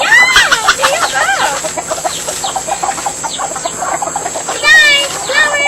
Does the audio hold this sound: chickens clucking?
yes